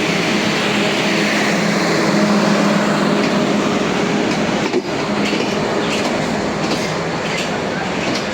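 Jahanabad Express passenger train at Khulna on its inaugural run rumbles loud and near, a continuous heavy roll of wheels and carriages with faint clatter and a brief dip midway.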